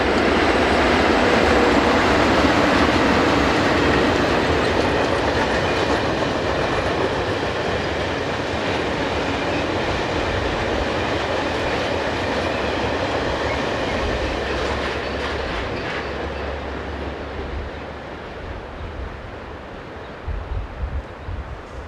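A European train rolls past close by, a loud, sustained rumble with rhythmic wheel clatter over rail joints that slowly fades toward the end.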